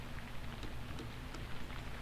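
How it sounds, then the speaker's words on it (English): Rain falls in a horror video game: a faint, steady hiss of rainfall with scattered soft drop ticks, continuous and low in level. "It's chilly with the rain, isn't it?"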